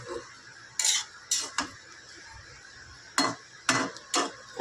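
Ridge gourd and fish curry being stirred in a pan, with a spoon or ladle clinking and scraping against the metal in several sharp bursts, spaced out across quiet pauses.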